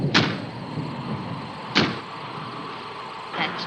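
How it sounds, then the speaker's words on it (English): Wind banging a door against a house: two sharp, fairly loud knocks about a second and a half apart, then a softer double bump near the end, over a steady low background hum. "That's just the wind banging a door."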